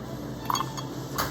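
Clear ice cubes drop into a cocktail glass at a bar, giving a couple of bright, close clinks separated by quiet pauses.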